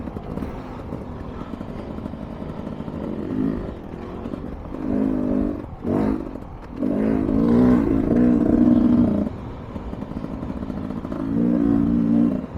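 A 2023 Beta 300RR Race Edition two-stroke dirt bike on an extended off-road ride, its engine droning close and continuous and swelling in repeated revving surges, with clatter from the terrain.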